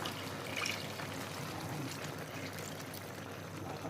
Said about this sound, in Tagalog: ilagay na po natin ang purong gata